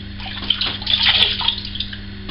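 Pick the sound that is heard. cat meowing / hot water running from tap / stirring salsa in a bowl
hot water running from tap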